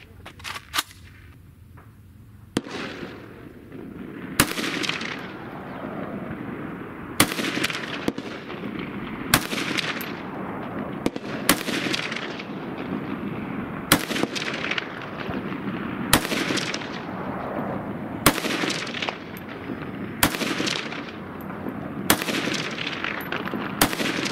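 A handgun fired round after round at a target through a red dot sight, fifteen sharp, loud reports spaced roughly one to two seconds apart, each with a short outdoor echo.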